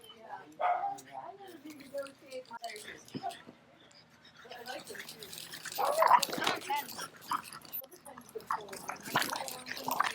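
A dog barks and yips a few times close by, mixed with people talking and some rustling movement.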